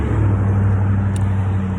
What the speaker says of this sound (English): that's like car number 3 that just passed me by